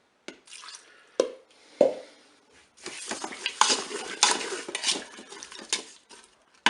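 Apricots and sugar stirred in the metal bowl of a Cookeo multicooker for compote: a few sharp spoon knocks against the pot, then a busier stretch of scraping and clinking, close and fairly quiet.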